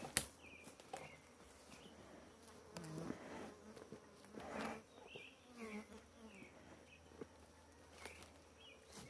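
Honey bees from a strong swarm buzzing while being moved from a bait box into a standard Langstroth hive, a faint steady drone with individual bees passing close, heard alone.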